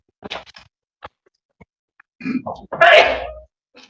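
In a courtroom, a single sharp sneeze bursts out after a few quiet clicks and rustles, loud and close, with a brief breathy tail.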